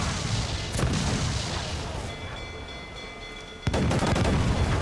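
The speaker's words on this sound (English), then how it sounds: "Cannons just went off for no reason." Ship cannons fire during a naval fight in Assassin's Creed 4 Black Flag, producing heavy booming blasts against a constant roar of wind and sea, with one sharp loud report near the end.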